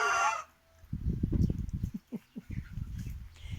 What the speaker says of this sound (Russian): Вот здесь цыплята.